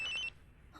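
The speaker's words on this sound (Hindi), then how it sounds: "कब से फोन रिंग हो रहा है" A brief electronic telephone ring chirps once, then pauses before another ring begins, fairly faint.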